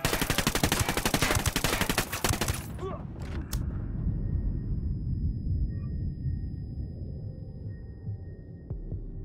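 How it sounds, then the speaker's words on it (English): Dense automatic gunfire from Ghost Recon Wildlands rattles loudly for a few seconds, followed by a couple of sharp isolated shots and a lingering low rumble and hum as the firing dies away. "I'm opening fire"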